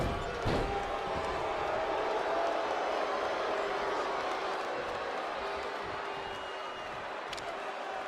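A home crowd roars in a steady wash of cheering through a WWE 2K20 wrestling match, with a sharp slam or impact early on and faint commentary beneath.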